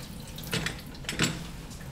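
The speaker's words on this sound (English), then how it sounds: "you have the water still coming out" Tap water runs steadily at a machine's cleaning sink after a trimmer cleanup, a soft continuous splashing with a couple of brief louder gushes, close by and with no talking.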